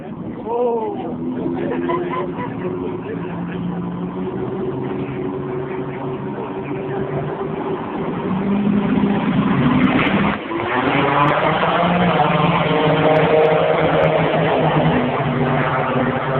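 Todd's farm truck, a drag racing truck at the Atco drag strip, revs loud and steady with shifting engine tones and a surge partway through, while people talk over it.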